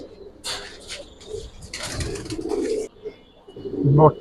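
Low coos from Giribaz pigeons at a pigeon fair, several calls near and fairly loud, mixed with handling noise and a brief voice in the background.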